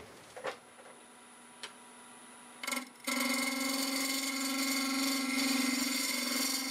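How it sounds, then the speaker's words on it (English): Wood lathe set to about 1100 RPM for bowl-gouge turning: a few sharp clicks and knocks, then the motor starts and holds a steady, droning whine. "I'm going to start with a half-inch bowl gouge, about 1100 RPM, as soon as I grab my face shield"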